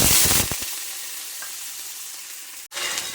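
Onion, ginger and garlic hit hot oil with a loud, close sizzle that settles into steady frying, broken by a few stirring scrapes and a brief pause near the end.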